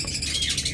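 Small caged pet birds give soft, high chirps and tweets, faint and fairly close, with no voices over them.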